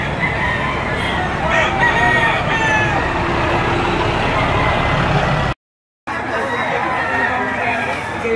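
Chickens at a poultry auction, with roosters crowing and hens clucking throughout, mixed with crowd chatter and someone talking, plus a brief dropout partway through.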